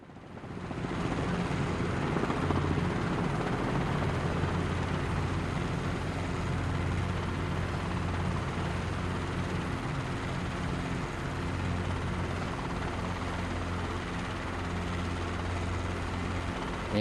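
A helicopter in Microsoft Flight Simulator drones with a steady engine whine and a low rotor thrum during a traffic pattern, loud and continuous throughout with no talk.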